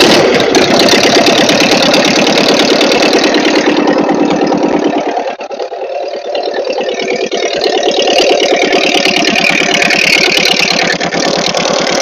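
A Ford 8N tractor engine runs steadily after a carburetor rebuild, loud and close, with a brief dip in revs partway through before settling back into an even, rhythmic chug.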